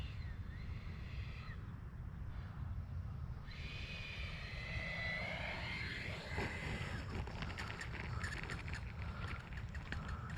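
An X-Fly Alpha RC jet lands on a runway, giving a steady broadband engine whine with shifting, sweeping tones as it slows, heard alone outdoors.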